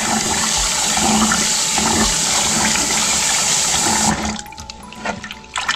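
Rice grains being washed and rubbed by hand in water for a Bengali khud rice dish, a steady close sloshing and running-water wash that stops abruptly near the end, leaving faint scattered splashes and drips.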